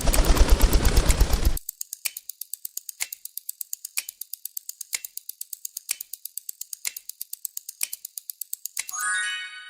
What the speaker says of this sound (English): That was the sound of a pigeon flying.